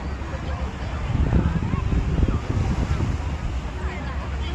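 Ocean waves surge and wash in a steady roar, mixed with gusty wind buffeting the microphone.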